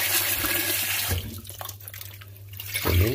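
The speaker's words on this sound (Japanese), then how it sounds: "ちょっとね、水で洗います。" Small salted horse mackerel are rinsed under a running kitchen tap, a loud steady gush of water that briefly eases and splashes as the fish moves through the stream, then surges again.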